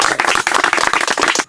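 A crowd at a farmers' meeting breaks into loud, close applause, many hands clapping rapidly in a dense burst that cuts off abruptly at the end.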